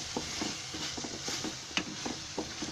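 Rice stirred in a pan with garam masala, turmeric and chili powder mixed in, a rapid train of scraping spoon strokes over a soft sizzle, close and fairly loud, with no talking.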